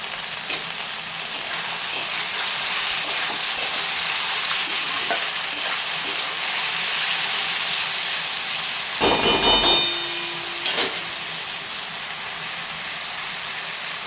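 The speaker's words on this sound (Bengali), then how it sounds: "নুন দিয়েও কিছুক্ষণ ভেজে নিব" Mushrooms fry with salt in a pan for mushroom chilli, producing a steady, close, loud sizzle and hiss with occasional stirring scrapes and a brief clatter near the end.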